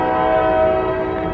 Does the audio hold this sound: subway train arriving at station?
yes